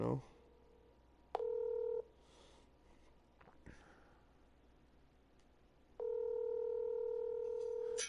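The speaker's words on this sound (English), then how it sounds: "I'm gonna give him a call" Telephone keypad tones and a steady dial tone in a quiet room, with dial tone in two long stretches around a short burst of dialing tones, fairly faint with no voices.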